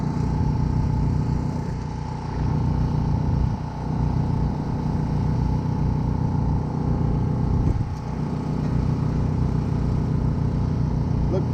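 A truck engine runs at night at a fishing spot, a continuous low droning idle with a steady hum, fairly close, joined by a couple of brief knocks and movement sounds.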